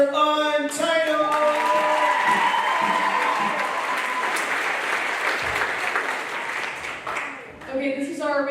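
An audience at an after-school music program showcase applauds loudly and steadily for several seconds, with a band's sustained instrument tones audible at the start and end of the clapping.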